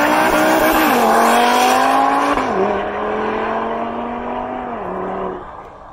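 A car with a DSG dual-clutch transmission accelerates hard and loud, engine note stepping down sharply at two gear shifts with a brief crackle at each change, then fading slightly as it pulls away.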